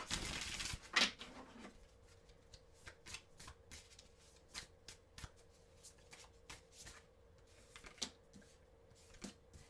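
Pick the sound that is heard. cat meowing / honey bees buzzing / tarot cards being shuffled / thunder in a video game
tarot cards being shuffled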